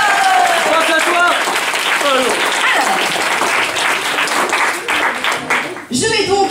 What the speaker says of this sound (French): Merci à vous de l'applaudir bien fort.